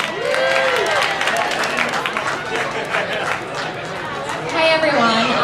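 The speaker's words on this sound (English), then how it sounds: "if we could put a big round of applause together for Ms." An audience at an evening league event claps and cheers for a speaker, a dense patter of applause mixed with crowd chatter, and voices talking over it.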